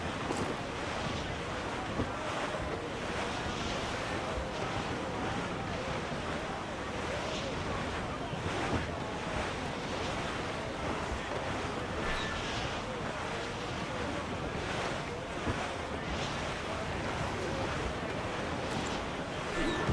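Stormy open sea in a squall in Assassin's Creed IV: Black Flag, with steady loud wind roar and crashing waves around a sailing ship, a dense continuous wash of noise throughout.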